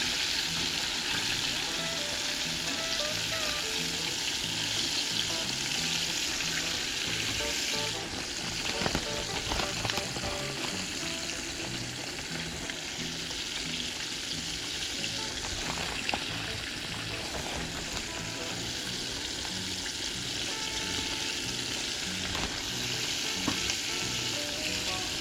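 White bass pieces frying in a hot pan, a steady loud sizzle and crackle with occasional clatter, running throughout with no talk over it.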